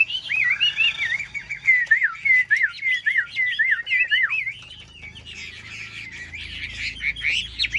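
Caged Chinese hwamei songbird singing a loud, close run of rapid whistled phrases and trills, continuing more softly amid cage rustling toward the end.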